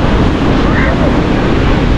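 Ocean wave washing up onto the beach at Guarujá, heard as a loud, steady rushing roar mixed with wind buffeting the microphone, filling the whole moment without a break.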